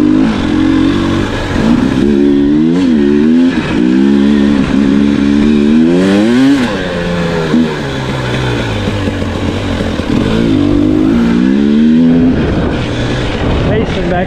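A KTM 300XC two-stroke dirt bike revs and accelerates on its first ride off-road, its engine pitch repeatedly rising and falling in loud, close surges, with wind buffeting and some talk mixed in.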